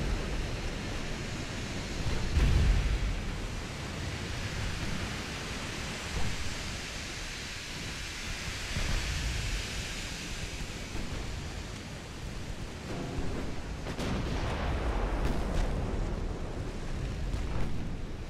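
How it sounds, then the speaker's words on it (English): Naval ammunition detonation in a warship video game, after a hit from a 12-inch shell: a deep, rumbling roar that swells and fades over a sustained wash of noise, with several heavier booms and no speech. "Doing an ammo detonation."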